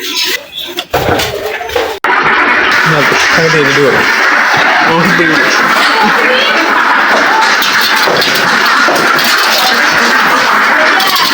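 A loud, dense chorus of native Bengali ducks quacking nonstop close by, after a few brief knocks and rustles at the start.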